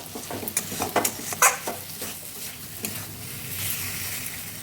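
Fried taro root drops into a hot pan of spice masala with oil separating, bringing a few stirring scrapes and clatters at first, then a steady soft sizzle and frying hiss.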